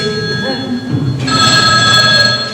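During a stage comedy, a telephone bell rings loudly and close, a bright trilling ring that starts partway through over faint room noise and voices.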